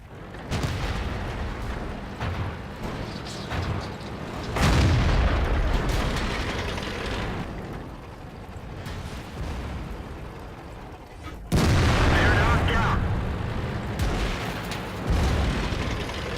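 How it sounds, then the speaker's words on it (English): Incoming artillery shells in World of Tanks land as heavy, rumbling booms. Several big blasts hit with sudden onsets and long decaying tails, and a loud burst near the middle is followed by lower rumbling. "Artillery shells inbound."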